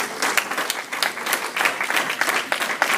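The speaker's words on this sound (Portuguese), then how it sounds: "Dê uma salva de palmas ao Senhor nessa noite." A church congregation applauds during an evening service, a loud, dense wash of many hands clapping with no break.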